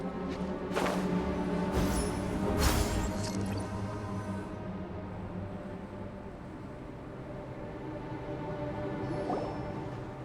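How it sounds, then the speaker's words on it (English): Water drains away in the Genshin Impact video game, with splashes and sloshing early on that settle into a softer, continuous liquid trickle. No one speaks. "seems that the water level has suddenly decreased."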